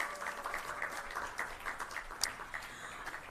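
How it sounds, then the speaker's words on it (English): Faint, distant applause for panelists leaving the podium at a report launch, soft rhythmic clapping with a few sharper claps standing out. "Please keep the applause going for them."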